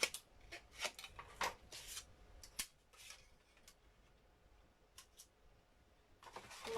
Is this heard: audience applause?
no